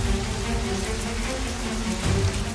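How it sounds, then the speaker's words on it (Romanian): Heavy rain drums steadily on tents at an outdoor camp, a dense, continuous hiss and patter that stays loud and even throughout, with no voices. "ploaia foarte, foarte urâtă"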